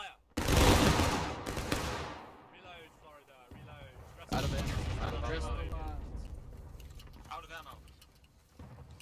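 A company volley of musket fire in the Civil War game War of Rights, during a battle at Hagerstown Turnpike, lands as a loud, sharp massed crash, then a second ragged volley a few seconds later, with shouting voices around it.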